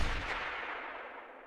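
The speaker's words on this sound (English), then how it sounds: "what is that loud popping sound?" An animated knuckle crack in a joint sounds as a sharp, loud pop that bursts a gas bubble. It rings out alone with a brief decaying tail.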